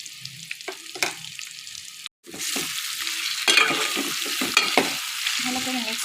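Amra (hog plum) pickle being stirred in a hot pan with turmeric, red chilli powder and salt, giving a close, loud sizzling fry with repeated scraping stirs and a brief break midway, no voices.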